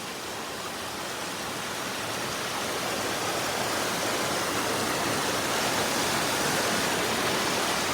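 Overflowing flood water by a rice field in Occidental Mindoro during Typhoon Egay makes a dense, steady roar of rushing water. It is loud and continuous, swelling slightly, with no voices.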